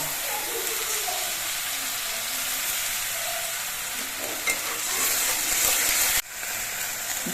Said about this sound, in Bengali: পেঁয়াজের পেস্টটা আমি বেশ কিছুক্ষণ ভেজে নিয়েছি